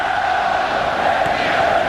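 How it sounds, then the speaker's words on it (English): A large football stadium crowd roars and chants loudly and continuously during an A-League semi-final between Melbourne Victory and Adelaide United, a broad sustained wall of cheering voices. "It's brought the crowd to life."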